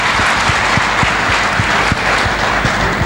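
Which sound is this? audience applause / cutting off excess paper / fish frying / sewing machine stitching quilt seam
audience applause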